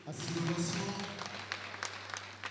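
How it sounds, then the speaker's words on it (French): Applause rises for the ORTB director general at a radio anniversary celebration, a modest crowd clapping under lingering voices and a low hum, thinning into scattered claps toward the end. "Est-ce qu'on peut encore applaudir pour le directeur général de l'ORTB?"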